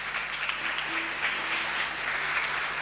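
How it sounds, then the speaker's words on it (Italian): A church congregation applauds steadily, a dense wash of many hands clapping at an even level throughout. "Amen, un applauso ai teens."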